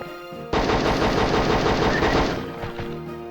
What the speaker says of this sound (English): Want a machine gun, buddy?